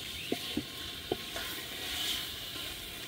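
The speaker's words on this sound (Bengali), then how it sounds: "সব মশলাপাতি দিয়ে মাংস কষিয়ে নিচ্ছি" Meat sautéed with spices, biryani masala, lemon juice and yogurt in a pot, with a soft steady sizzle and a few distinct scrapes and knocks of a stirring spoon against the pot.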